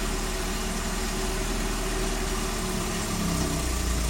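A Nissan 240SX with a swapped KA24E engine idles steadily and close by, a continuous low rumble with slight vibration and no talk over it.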